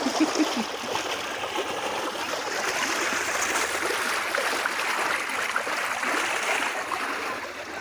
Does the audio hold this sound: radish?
no